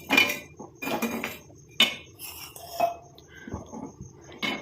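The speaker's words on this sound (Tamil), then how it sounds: "இப்போ நம்ம ரெடி பண்ணி வச்சுருக்க இந்த ஆயிலை அப்படியே அடுப்பில் வச்சிடலாம்." A pot of homemade hair oil set down on a kitchen stove burner, giving several sharp metallic clinks and clatters of cookware spread through the moment, close and fairly loud.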